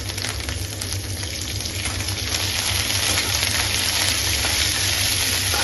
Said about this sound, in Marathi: लसूण सोनेरी रंगाचा लोसपर्यंत परतून घ्यायचं